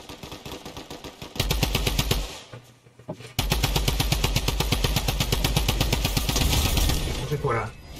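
A submachine gun fires in rapid, sustained automatic bursts in a video game, loud and close, with one short pause between long strings of shots.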